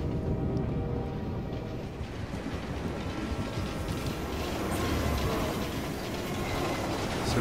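Trains rumble past with rhythmic clickety-clack of wheels over rails, a steady loud rolling roar filling the whole stretch in the Assassin's Creed Unity video game.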